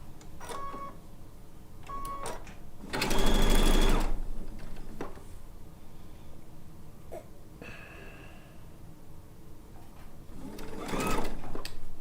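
A sewing machine stitches a blue and white quilt top in short bursts, with one sustained run in the middle and another toward the end, separated by quieter handling noise.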